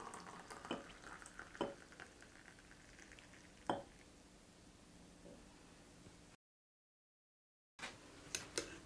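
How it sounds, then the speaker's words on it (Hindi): Hot milk being stirred into a cappuccino coffee mixture gives a soft, faint scraping and swishing under steady hiss, with a few sharper clinks of the spoon against the cup and a brief gap of silence near the end. "इसको अच्छी तरह से मिक्स कर लेंगे"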